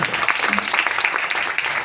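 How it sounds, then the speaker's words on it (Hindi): A brief burst of audience applause welcoming a poet at a poetry recital, quick dense clapping lasting under two seconds with some voices mixed in. "तालियां बजा करके बताइए स्वागत है कि नहीं।"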